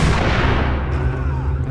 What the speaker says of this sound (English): It's a grenade launcher, so it should be grenades.